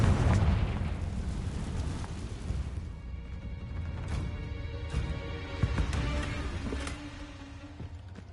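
Spell explosion from the Confringo curse in the video game Hogwarts Legacy, a loud booming blast up front that decays into a rumbling tail with several smaller pops and bursts following, no voices.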